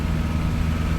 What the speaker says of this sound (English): Come on, little engine.